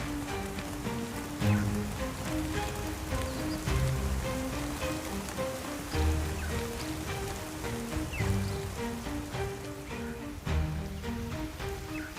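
Rain patters steadily on leaves and surfaces in a forest at dawn, with scattered drops and a faint layer of birdsong in the background.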